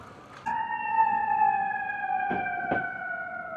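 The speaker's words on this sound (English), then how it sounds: "hear that siren going?" A siren wails in steady sustained tones, fairly loud and slowly falling in pitch, with a couple of brief knocks partway through.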